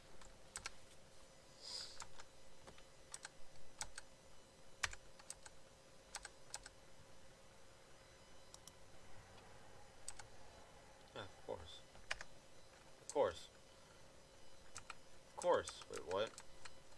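Computer keyboard keys tap and click in scattered bursts while playing modded Minecraft, quiet and close, with a few sharper clusters of clicks near the end.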